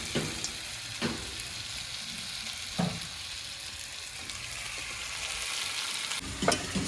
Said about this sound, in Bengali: এবার দেবো চিনি, এবার দিয়ে দিচ্ছি গুড়